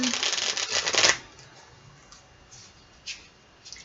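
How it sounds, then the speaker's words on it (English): Tarot cards shuffled by hand in a rapid riffling burst over the first second, then a few soft, faint card taps and slides in a quiet room. "I'm going to shuffle them again."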